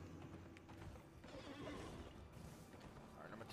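Horse neighing and clopping hooves from the video game Elden Ring, a whinny rising over steady rumbling game noise with a voice talking now and then.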